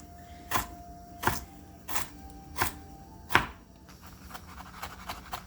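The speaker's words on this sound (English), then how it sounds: "You kind of have to mince it really finely." Lemongrass being minced with a knife on a board, five distinct, evenly spaced chops followed by quicker, lighter cuts, close and clear with no talking.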